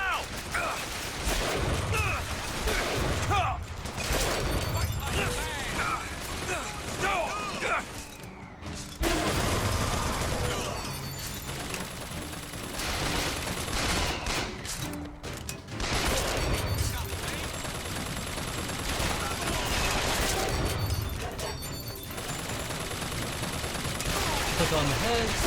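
Automated turret firing in the video game Bioshock Infinite, with dense, continuous bursts of gunfire running throughout amid game noise, while a voice talks over it.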